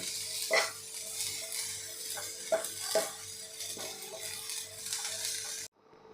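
Onion and coconut roasting in a pan over a low flame for Kolhapuri chicken masala, a soft steady sizzle broken by a few sharp stirring clinks and scrapes, ending abruptly.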